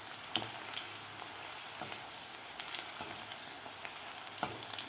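Garlic frying in oil in a pan gives a steady, soft sizzle with scattered small pops and crackles throughout, close and fairly quiet, with no one speaking.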